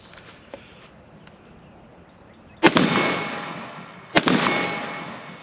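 Two loud, sharp gunshots from a Palmetto State Armory AR-15 rifle, a couple of seconds apart, each cracking hard and then trailing off in a long echoing decay, with faint clicks before the first shot.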